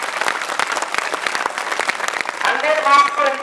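A crowd claps loudly for a Hindi teacher at a class ten results event at a coaching academy, the dense applause continuing throughout while a voice speaks over the latter part.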